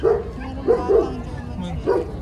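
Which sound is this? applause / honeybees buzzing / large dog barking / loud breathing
large dog barking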